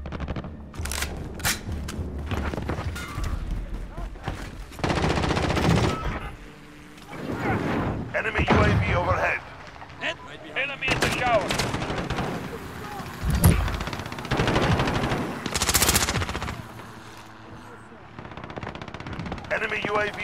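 Modern Warfare gunfire in Call of Duty comes as repeated loud bursts of automatic fire and single shots, with gaps between volleys, and voices are heard now and then among the shooting.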